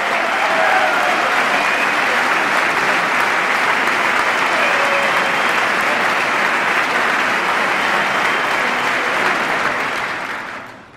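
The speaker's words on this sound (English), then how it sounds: "I thought I'd get some applause on that one." An audience at the 2010 State of the Union address bursts into loud, sustained applause in a large chamber, a dense roar of clapping that holds steady for about ten seconds before tapering off.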